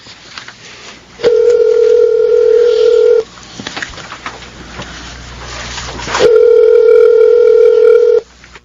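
A telephone's ringback tone sounds during a call, with two long steady beeps of about two seconds each, separated by a pause, loud and close with faint background noise.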